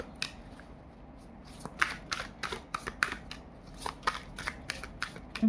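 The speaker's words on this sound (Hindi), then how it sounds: "एक और कार्ड निकालूंगी।" Tarot cards being shuffled and drawn, a series of soft, quick riffling and flicking sounds in irregular bursts, close and quiet, no talk.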